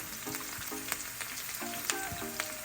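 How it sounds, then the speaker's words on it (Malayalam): Sliced onions fry in a pan with a soft, even sizzle, lifted by a few light stirring scrapes in a brief, fairly quiet stretch. "നമ്മുടെ സവാള ഒന്ന് ഇളക്കി കൊടുത്തോണ്ടിരിക്കുവാണേ"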